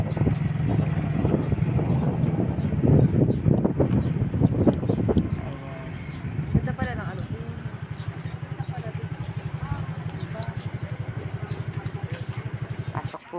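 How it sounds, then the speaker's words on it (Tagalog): Strong wind gusting outdoors near a church on Lubang, Occidental Mindoro, roaring and buffeting against the microphone, heaviest in the first five seconds and then easing to a lower steady rush. "Ayan, so malakas po talagang hangin dito."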